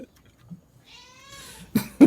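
Cats meowing in the background indoors, one drawn-out rising and falling meow followed by two short, louder cries close together near the end.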